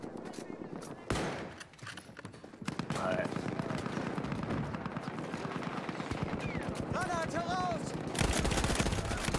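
Sustained machine-gun fire and scattered gunshots in a Battlefield 1 battle, a loud, continuous rattling with a Lewis gun close by, bursts layered over distant shots, with players talking over the gunfire.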